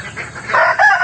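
A free-range village rooster crowing nearby, a short loud call rising in pitch, with faint clucking beneath it.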